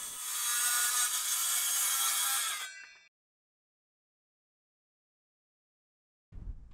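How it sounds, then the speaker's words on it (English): A circular saw makes cross cuts in a wooden post for a pergola: one loud, steady cutting burst of about three seconds, then it stops into silence, with a low thump near the end. "I set my circular saw blade to that depth and then made a series of cross cuts."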